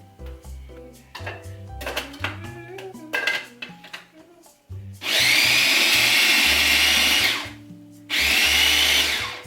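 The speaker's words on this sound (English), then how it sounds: "I'm just gonna put it in our food processor" Kitchen food processor chopping vegetables, first with clattering knocks of pieces and container handling, then two loud sustained whirring motor bursts from the blades, each stopping abruptly.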